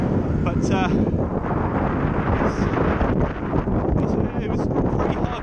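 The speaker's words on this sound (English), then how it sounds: "it's incredibly windy" Heavy wind buffeting the microphone on a bicycle ride at Box Hill, a loud constant rumble under a person speaking.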